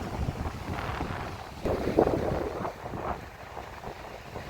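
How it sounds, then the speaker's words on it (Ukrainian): Strong storm wind gusts buffet the microphone outdoors at a seaside park in Odesa, a steady rumbling roar that swells in stronger bursts partway through. "Боже, який вітер."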